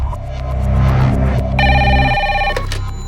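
A telephone rings while someone calls a hospital, a steady electronic ring tone sounding with a low hum beneath, then breaking into a brighter, higher ringing pattern near the end.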